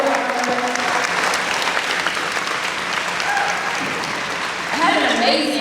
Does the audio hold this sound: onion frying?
no